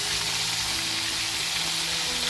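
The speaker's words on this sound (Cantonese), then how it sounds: "咁你再翻面，再炸1分鐘， 就可以撈起身啦。" Pork cutlets deep-fry in hot oil, a dense, even bubbling hiss that stays constant and close for the whole stretch with no talking over it.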